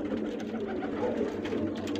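Several caged male and female pigeons in pairs at a bird seller's, giving a continuous low murmuring coo that fills the clip, close and steady with no talk.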